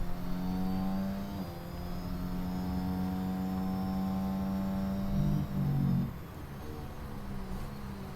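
Formula 1 car engine in F1 Manager 23, captured as if by trackside camera microphones: a loud, sustained high-pitched engine drone holding steady, then briefly shifting pitch and dropping near the end.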